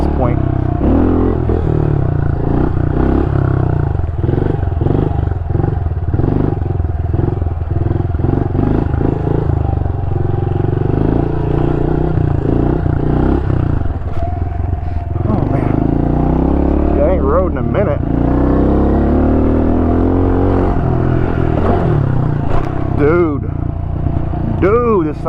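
A 2023 Honda CRF110 dirt bike revs loudly and continuously while riding and jumping, with engine pitch swooping up and down and some clattering, heard close throughout with a person talking over it.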